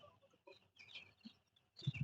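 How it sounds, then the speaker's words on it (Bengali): Poultry chicks in a brooding shed drink water and scurry about, giving soft scattered peeps and cheeps, quiet and close, with a brief louder rustling scuffle at the end. "মুরগিগুলো কিভাবে ভালোভাবে পানিগুলো খাচ্ছে এবং খাবার কাছে দৌড়াদৌড়ি করছে, ছটফট করছে"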